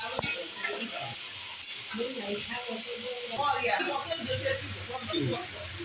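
Cabbage stir-fried in a pan for a chicken Chinese vegetable dish sizzles at low level under repeated scraping and stirring, close by, with soft talk in the background.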